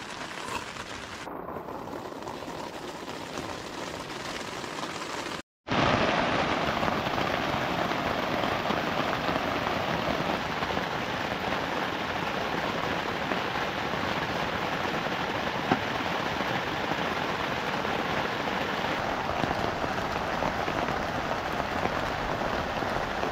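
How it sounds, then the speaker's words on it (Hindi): Heavy rain drums on a warm camping tent in Uttarakhand as a dense, constant roar. It cuts out briefly early on, then continues unbroken and loud, with no talking. "तो बारिश कंटिन्यू है"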